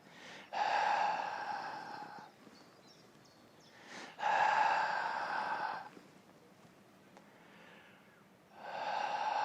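Slow, deep breaths during a Pilates exercise, heard close up. Three long, loud, airy exhalations are separated by quieter inhalations in a steady rhythm.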